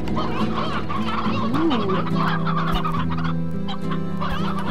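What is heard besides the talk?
chickens in a coop in the video game Slime Rancher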